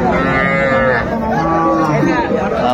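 Young bulls and heifers moo loudly and close by at a cattle market in Mymensingh, long drawn-out lowing calls in succession, with faint crowd chatter behind.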